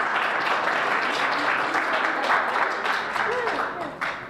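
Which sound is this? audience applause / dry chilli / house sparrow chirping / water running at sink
audience applause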